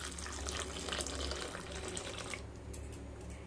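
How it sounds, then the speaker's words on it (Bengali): Grated potatoes being washed by hand in water, with steady running water and sloshing from a sink filling throughout, fairly close and continuous, with no talk. "3-4 বার করে খুব ভালো করে ধুয়ে নিতে হবে।"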